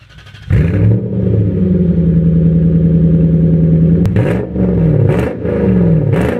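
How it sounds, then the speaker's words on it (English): A drift truck's engine fires up for the first time, jumping from quiet to a loud, steady idle that dips and swells with a few blips of revving near the end. "First startup, right here, ladies and gents."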